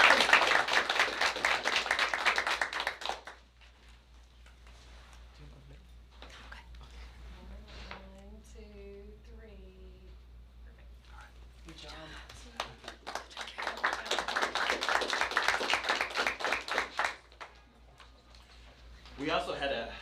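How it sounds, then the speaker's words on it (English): An audience at a school board meeting claps twice, a loud burst of applause at the start and another swelling round later, separated by a quieter stretch with voices and faint cooing birds. "You guys give them a round of applause."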